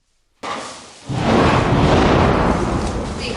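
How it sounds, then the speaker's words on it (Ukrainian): A sudden loud blast followed by a heavy, sustained rumbling roar that fills the space, like a nearby explosion echoing out, during shelling in Chernihiv. "Весь цей час лунають вибухи."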